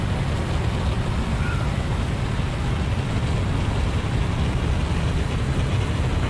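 A vehicle engine in the video game Dune Awakening drones as a steady, broadband rumble with a strong low end, constant and loud throughout with no speech over it.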